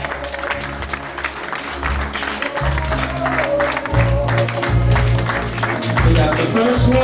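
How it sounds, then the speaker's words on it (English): Party guests at a 70th birthday celebration applaud in a sustained, loud burst of clapping, with music and voices mixed in beneath the crowd noise. "Let's give them a big round of applause"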